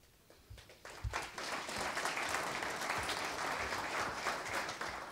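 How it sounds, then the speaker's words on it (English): Audience applause at a courthouse ribbon cutting in Plant City, starting with a few scattered claps and swelling into steady, dense clapping that holds for several seconds. "I appreciate that great applause"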